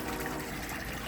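A bilge pump recirculates water through a homemade boat livewell, giving a continuous close splashing and trickling rush with no pauses.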